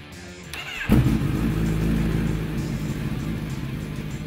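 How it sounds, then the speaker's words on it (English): A motorcycle fitted with a LeoVince exhaust and FAST II injection system fires up after a brief quiet lead-in, then settles into a loud, steady idle with a slight rev near the start, close to the microphone. "now's the time to fire it up and check everything over"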